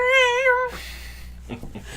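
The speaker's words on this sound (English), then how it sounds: "Was that him meowing or beaming?" A cat gives one clear, drawn-out meow up close, then falls quiet, leaving light background noise.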